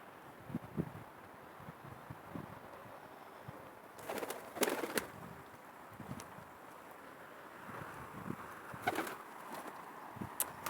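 Pigeons cooing softly in low, throaty bursts, with occasional sharp fluttering and clattering sounds nearby.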